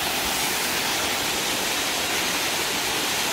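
Waterfall in Baegun valley on Jirisan mountain, a loud, steady, dense roar of falling water filling the whole clip with no pauses or voices.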